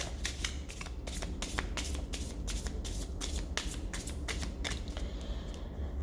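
A deck of psychic reading cards being shuffled, with a rapid series of crisp riffling flicks repeating steadily throughout, close and fairly quiet, with no talking.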